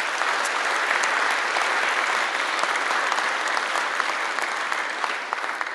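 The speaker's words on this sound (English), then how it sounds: "So y'all need to give Secretary Kluttz a round of applause." An audience at a North Carolina poet laureate installation ceremony gives a sustained round of applause for Secretary Kluttz, dense, even clapping that fills the room and eases slightly at the end.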